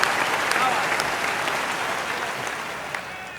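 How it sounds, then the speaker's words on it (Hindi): An audience at a Hindi comedy poetry recital applauds in a dense, sustained wash of clapping that slowly fades a little over a few seconds. "ताली बजाओ यार"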